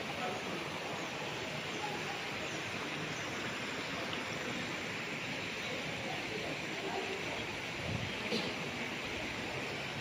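A river flows at an operational resort in Liliw, Laguna, a steady broadband rush of water running without a break, with faint speech now and then.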